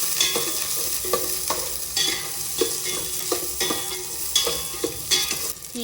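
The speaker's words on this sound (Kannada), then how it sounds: "ಇದನ್ನು ಸ್ವಲ್ಪ ಫ್ರೈ ಮಾಡ್ತೀನಿ." Chopped onion fries and is stirred in a hot pan for South Indian okra sambar, a steady sizzle broken by repeated scraping strokes of a spoon at an uneven rhythm, close and clear with no talking.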